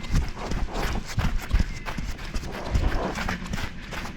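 An Arabian mare's hooves thud and clop in quick, uneven steps, close by, with faint breathing and no clear talk.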